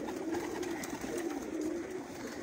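Pigeons on a rooftop loft in Bagwal coo steadily in a low, rolling murmur that carries through the whole stretch, close by and unbroken, with no voices.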